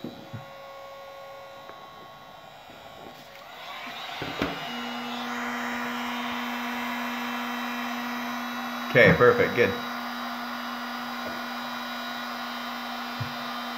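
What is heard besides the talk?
loud heat gun running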